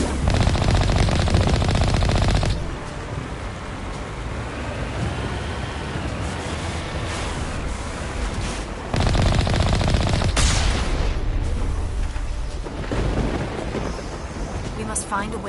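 Heavy artillery and gunfire in a Mass Effect Legendary Edition battle, loud sustained rumbling blasts with bursts of rapid fire, swelling in two louder stretches, with voices speaking over the din.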